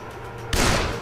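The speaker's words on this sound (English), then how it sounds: "he's shooting me, apparently" Gunfire in the video game Dead Island: a loud, sudden burst of shots erupts halfway through, following a quieter stretch of game ambience.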